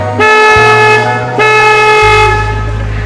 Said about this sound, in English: I'm going to honk the horn to announce our approach.